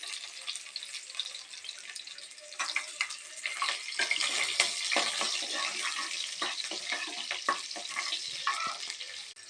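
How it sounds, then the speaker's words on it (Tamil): Shallots and curry leaves hit hot oil with popped mustard seeds for a cluster beans gravy, giving a loud, steady sizzle that swells as the ingredients go in, with spoon scrapes throughout and no talking. "கடுகு நல்லா பொரிஞ்சு இப்போ வந்து நம்ம சின்ன வெங்காயம் கருவேப்பிலை ஆட் பண்ணிக்கலாம்"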